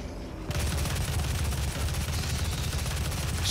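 Sustained rapid gunfire from shooting enemies in DOOM VFR on PS5 PSVR, classic retro stages, a dense loud continuous barrage with heavy low thumps that kicks in after a brief quiet start.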